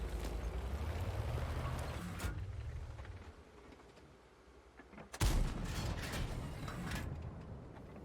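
A deep, rumbling tank engine drone in World of Tanks gives way to a sudden loud cannon blast from a Bourrasque, followed by a trailing roar and scattered noise.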